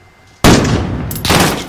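Automatic gunfire in the Call of Duty: Warzone video game erupts suddenly after a short quiet moment, a loud rapid burst that continues and then resumes after a very brief pause.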